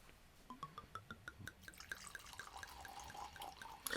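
Greek red wine glugs from a bottle into a glass in a rhythmic series of gurgles that speed up into a steadier pour, close and fairly quiet, with no talking.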